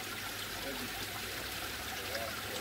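Pond water trickles steadily through a koi filter sieve, a continuous close wash of flowing water with faint voices in the background.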